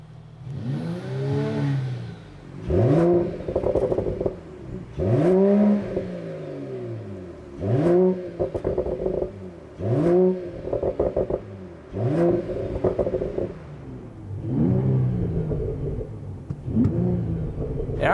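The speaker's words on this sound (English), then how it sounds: "Let's see what Sport Plus sounds like." A Mercedes-AMG E53 Coupé hybrid engine is blipped repeatedly in Sport Plus mode, seven or eight sharp, loud revs with crackling pops on the overrun between them, recorded up close.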